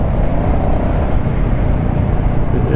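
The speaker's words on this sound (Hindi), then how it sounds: "लेकिन बाइक तो मेरा है बुलेट" A Royal Enfield Classic 350 Bullet motorcycle rides on a road trip to Ladakh, its engine a steady, close, loud rumble mixed with road and wind noise and no break.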